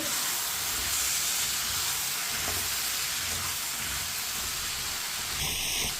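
Potatoes tossed into a hot pan and stirred, giving a steady broad sizzle and hiss with faint scraping underneath, close and continuous throughout.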